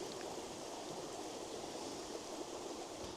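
A river with a small rapid flows in a steady, broad rushing wash, continuous and even throughout with no voices.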